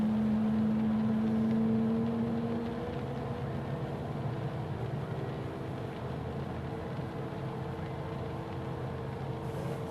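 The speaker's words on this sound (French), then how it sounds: "Allez, on va démarrer le moteur droite." An aircraft's right engine spools up, a steady rising whine and mechanical drone with a bright tone that fades after a couple of seconds into a sustained, fairly loud hum.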